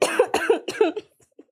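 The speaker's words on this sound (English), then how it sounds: "I want to cough." A person coughs in a quick burst of about four harsh, closely spaced coughs close to the mic, then trails off into a faint throat sound.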